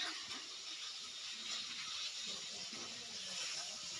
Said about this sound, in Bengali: কার কার পিঠে ভাজা হল, আর আমার পিঠে ভাজা শেষে হয় না।